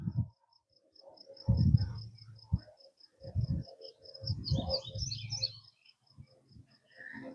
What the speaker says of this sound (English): You can hear the crickets and the grasshoppers and everything else.